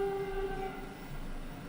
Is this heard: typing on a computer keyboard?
no